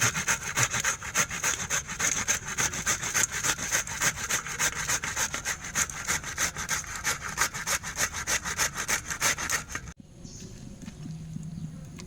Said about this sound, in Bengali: ধুয়ে নিয়েছি কেটে নিয়েছি এবার পুছে নেব